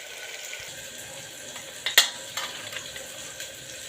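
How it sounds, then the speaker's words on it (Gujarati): Tomatoes fry in a pan for a green chickpea curry, a soft continuous sizzle with a sharp utensil clink partway through and no voices. "ટામેટા ફ્રાય થાય છે"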